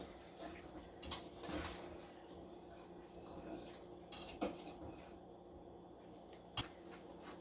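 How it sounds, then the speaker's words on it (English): A spoon stirs a pot of oats dumplings with sweet potato, giving a few quiet clinks and scrapes against the pot at irregular moments over a low background hum. "Put that in the pot, give it a stir."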